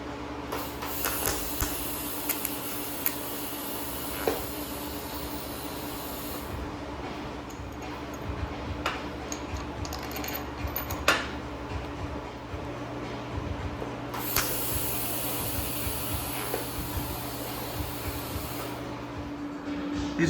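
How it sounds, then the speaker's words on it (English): Metal suspension parts for a four-link air bag setup on a shoebox Meteor are welded in two long, steady crackling bursts separated by a quieter pause, heard close by. "So I'm gonna weld that up now."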